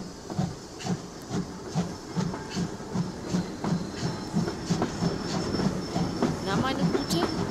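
A train at a railway station gives a regular chugging pulse with hissing steam, close and steady, and faint voices underneath.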